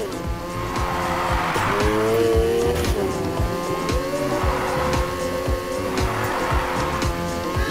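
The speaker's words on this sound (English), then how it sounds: "Keep that drift going." A car drifting in Need for Speed Heat: a continuous engine roar with long, wavering tire squeal as the slide is held, loud and steady across the whole stretch.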